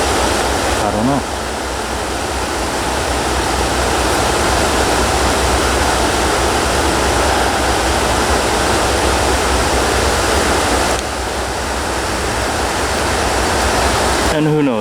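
River water rushing steadily and loudly nearby, a continuous broadband roar that holds unchanged for the full length, with faint brief rising tones at the start and end.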